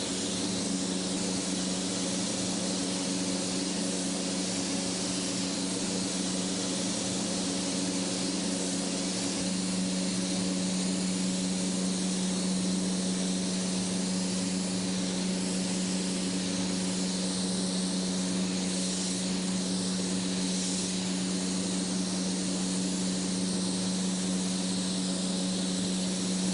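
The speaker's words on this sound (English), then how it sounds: "The overhead sound you're hearing are the fans to inhale the overspray of this candy" Loud, constant whooshing hum of overhead exhaust fans drawing out candy paint overspray in a spray booth, with a steady tonal drone and airy hiss that never lets up.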